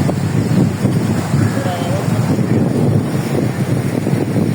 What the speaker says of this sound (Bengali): সুন্দর আছে বাতাস অনেক বেশি অনেক ঠান্ডা ঠান্ডা বাতাস